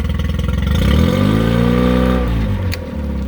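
The engine of a used 2017 Paddleking Lo Pro Cruiser boat runs in reverse. It makes a loud, steady drone that rises in pitch as it is briefly throttled, then settles back to a lower idle.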